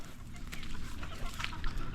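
Native chickens cluck in a muddy yard, a loose scatter of short calls over steady low background noise, moderately close and with no voices.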